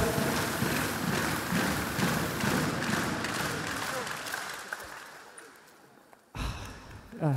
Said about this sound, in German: Carsten, dein Applaus.